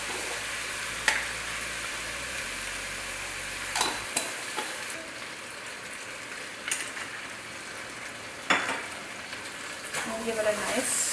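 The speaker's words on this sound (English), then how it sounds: "Give it a nice stir." Shrimp stew being stirred in a pot while cooking, soft scraping and bubbling sizzle with a few sharper spoon knocks against the pot, fairly quiet throughout.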